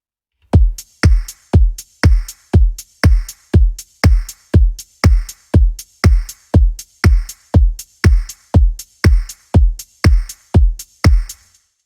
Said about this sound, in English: Nice little house drum groove.